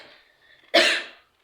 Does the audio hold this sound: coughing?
yes